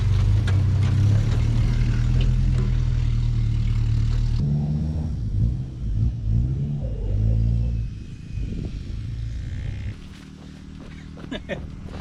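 A box truck's engine roars and revs hard off-road as its wheels spin up a slope, a loud, continuous low rumble that fades a little toward the end, with scattered knocks.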